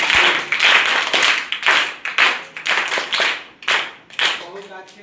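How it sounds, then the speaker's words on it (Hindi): Schoolchildren and adults clap loudly together in a classroom for the students' projects, a dense burst of rapid claps that swells and dips in waves, close and continuous, with voices mixed in. "इनके लिए हम लोग जोरदार ताली बजाएंगे"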